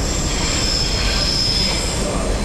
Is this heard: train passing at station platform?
yes